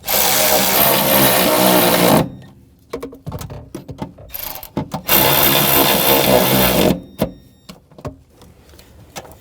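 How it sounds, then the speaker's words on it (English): Nuts on a rear shock absorber of a 2009-2010 BMW 535i xDrive are tightened with a power tool: two long, loud, close whirring bursts, separated by quieter ratcheting clicks and clatter, with no talking. "Now put the other two nuts on. And we'll tighten those down."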